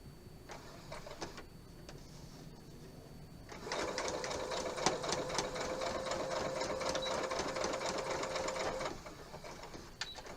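A sewing machine runs steadily for about five seconds while stitching a table topper, a dense rapid needle clatter with a whirring motor tone, loud and close, starting and stopping abruptly with quieter handling before and after.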